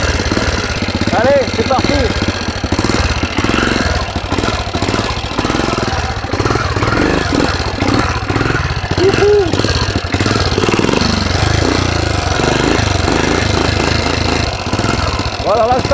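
A Tobec motorized vehicle's engine runs loud and close with a steady rough drone and rattling pulses, while people talk excitedly over it throughout.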